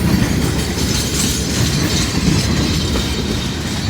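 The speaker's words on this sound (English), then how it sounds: "this is the third train I've caught" Train rolling past close by on rusty rails, a loud steady rumble with dense clattering of wheels over the track and no voices.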